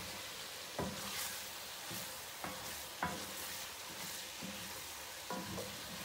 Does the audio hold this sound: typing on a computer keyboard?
no